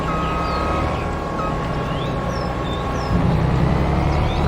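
In the video game Farming Simulator 22, a combine harvester's engine runs as a steady, loud drone with a faint whine, swelling slightly near the end, with no speech over it.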